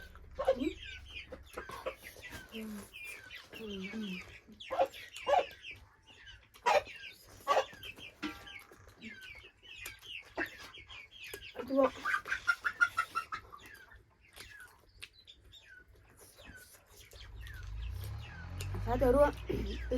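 Chickens cluck and a rooster calls intermittently in a farmyard, faint and somewhat distant beneath people talking nearby, with some low rumbling near the end.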